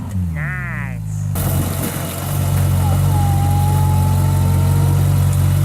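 A Ferrari 458 Spider engine and exhaust, close by, shifting from a low idle to a louder, steady, deep drone after a brief vocal sound at the start.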